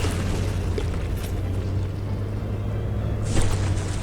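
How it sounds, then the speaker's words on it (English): Explosions in the naval combat game From The Depths during a battleship tournament brawl, a steady low rumble of distant blasts with a sharper burst near the end. "This cram duo was saturated in explosions"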